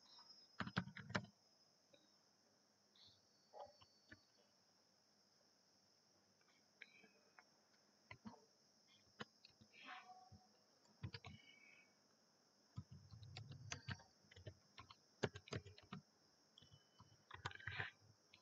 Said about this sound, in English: Now you have to type your username.